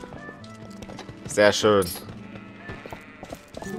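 Epona the pony in The Legend of Zelda: Twilight Princess HD, with rhythmic clip-clop hoofbeats and one loud, brief whinny in the middle, under background game music. Someone speaks briefly.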